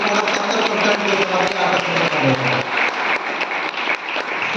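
An audience at a motivational talk claps together in a lively, dense burst, many hands close and loud with individual sharp claps standing out, continuing steadily without speech.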